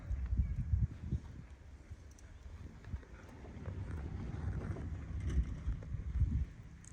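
Wind rumbles against the microphone outdoors while Ukrainian plov is being cooked, low uneven gusts, a steady blustery roar rising and falling for several seconds with no clear speech.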